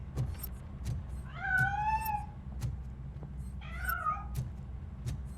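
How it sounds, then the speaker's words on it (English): A cat hidden inside a piano in RoboCop Rogue City gives two drawn-out meows, fairly clear and close, over low background hum and scattered soft clicks. "That cat must be hiding inside."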